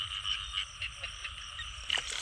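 Frogs croak in a rhythmic chorus of repeated calls at night, with steady pulses and a louder burst near the end.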